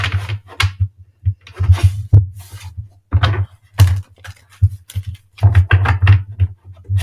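A deck of tarot cards is shuffled close by, giving quick irregular bursts of riffling and soft tapping thuds without speech.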